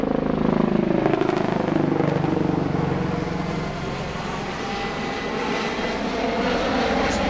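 A fixed-wing airplane flies over an outdoor memorial event for The Moving Wall, its loud engine roar sustained throughout and easing slightly midway as it passes overhead.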